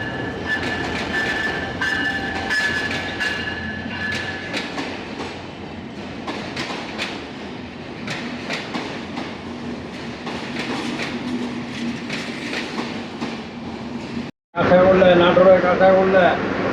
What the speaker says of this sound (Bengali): এখনই ট্রেন আসবে, এর জন্য অপেক্ষা করতেছি।